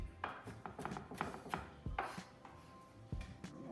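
Knife chopping onions for potato salad on a cutting board: a run of close, crisp irregular chops with short pauses, steady and fairly loud, no voices.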